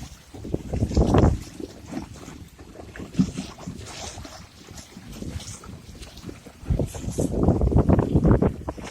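A Sunfish sailboat moves across North Long Lake in a northeast breeze, with wind gusting into the microphone and water sloshing and splashing against the hull in uneven surges, loudest near the start and end.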